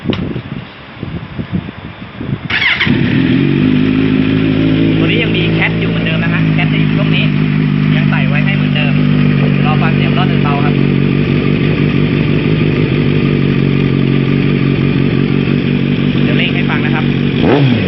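A Kawasaki Z900 fitted with a 2.5-inch slip-on exhaust starts up close by, then holds a loud, rumbling idle broken by several sharp throttle blips and revs.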